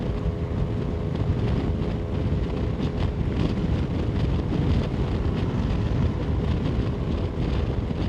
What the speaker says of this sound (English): It's just wind. I hate when it's windy.